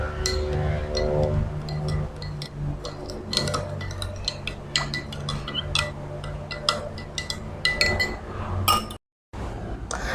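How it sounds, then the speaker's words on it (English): A metal spoon stirring salt into water in two glasses, rapid irregular clinks and taps against the glass repeating throughout, close and fairly loud over a faint background hum. "Now I am going to stir both of the glass."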